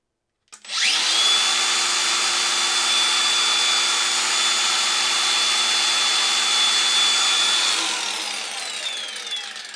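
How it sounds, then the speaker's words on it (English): A Parkside Performance 12V direct-drive angle grinder spins up sharply and runs at a steady, loud whine for about seven seconds before winding down, with a high steady tone over the motor's broad rush. "since the Parkside is a direct drive, it makes a lot less noise than the gears in the Makita"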